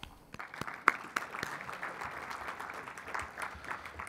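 Audience members at a civil society congress applaud, a moderate patter of clapping with a few sharp individual claps standing out, steady at middling distance with no voices over it.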